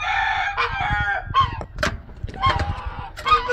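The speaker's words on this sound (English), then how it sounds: "There's the turkey. Are we allowed to have turkeys?" A turkey calls repeatedly nearby, a series of loud gobbling and clucking bursts with short gaps between them.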